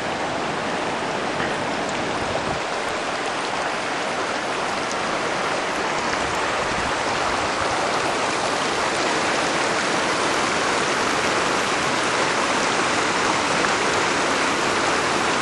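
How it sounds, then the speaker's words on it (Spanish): Waterfalls at Semuc Champey, Guatemala, roar steadily in the background, a dense, even rush of falling water that fills the whole stretch without pause. No voices are heard over it. "Increíble. Las cascadas al fondo."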